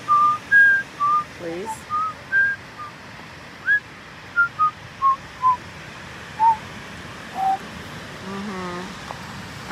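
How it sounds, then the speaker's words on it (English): A person whistling a slow tune outdoors at a beach at sunrise, a series of short clear notes with gaps between them, close and fairly loud over a soft background hiss, with a brief spoken word partway through. "nobody wants to hear you whistle"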